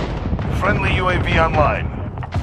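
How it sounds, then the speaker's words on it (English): A grenade blast from the Call of Duty Modern Warfare team deathmatch multiplayer, a rumbling burst and rolling noise heard under in-game radio voice and battle chatter. "Throwing grenade!"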